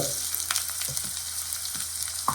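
Onion stalks sizzle steadily in a pan at low volume, with soft intermittent stirring scrapes and clicks over the constant frying hiss.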